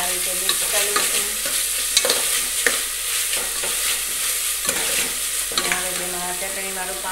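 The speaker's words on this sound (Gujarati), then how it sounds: "તો જો આપણે થોડી ખાંડ નાખીશું ગળપણ માટે અને હવે તેને સારી રીતે મિક્સ કરી લઈશું." Sugar stirred into a sizzling home-cooked dish, with a spoon repeatedly scraping and clinking against the pan over steady frying hiss, close and fairly loud, no talk.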